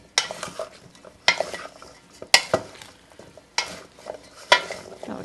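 Cubed vegetables, spices and canned beans stirred together in a pan, giving repeated scraping and clattering strokes at an uneven rhythm, close and moderately loud, with no talk.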